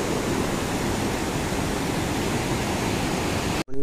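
The swollen Mandakini river in the Kedarnath valley at Agastyamuni roars with a loud, steady rush of water that fills the whole clip, then is cut off abruptly near the end.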